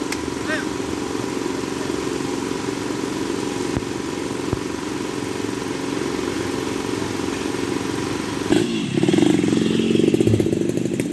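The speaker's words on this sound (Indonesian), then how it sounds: "yang di sini rombongan memakai motor ya" Motorcycles of a wedding convoy arriving in a Sundanese village in Sumedang idle and rumble steadily under crowd chatter and talk, with a louder surge of engine noise near the end as the bikes draw close.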